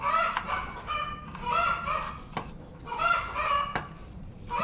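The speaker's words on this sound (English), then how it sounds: "I apologize for the birds, but somebody's not happy in there." Chickens squawking in a coop beside a greenhouse being assembled, repeated loud agitated calls in drawn-out cries of a few seconds each, with sharp knocks in between.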